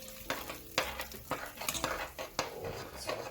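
A steel utensil scrapes and clatters in a non-stick pan while fried onions are stirred, giving quick irregular scraping strokes over a soft sizzle, close and clear with no talking.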